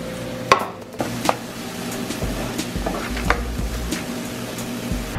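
Onions cooking in a pan with no oil and a splash of water, giving a soft sizzle under scattered spatula scrapes and knocks against the pan, close by and fairly quiet.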